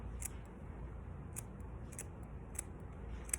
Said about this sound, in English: So you're not cutting a lot of the hair out. So just gently, gently snip.